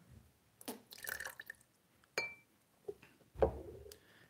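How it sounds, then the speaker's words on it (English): Water is poured and dripped into a small glass setup used for photographing wedding rings, giving a few separate splashes and clinks with a sharp glassy ping, quiet and close, with silent gaps between them. "we're going to throw a little bit of water in here."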